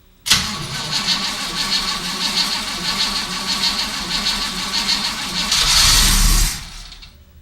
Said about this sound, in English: just crank the engine over for 10 or 15 seconds to prime the inside of the carburetor